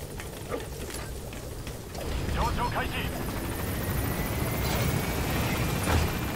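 Helicopter in the video game Metal Gear Solid V, a steady rotor drone that grows louder after a couple of seconds and holds, with game effects and a voice over it.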